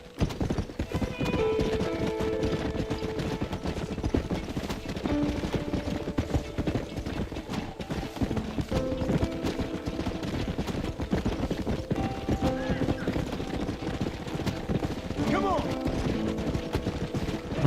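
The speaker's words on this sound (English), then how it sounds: "Ah, o cavalo rampou." Horse hooves galloping in a video game, a fast continuous clip-clop close up with occasional whinnies and distant gunfire mixed in, with some game voices over it.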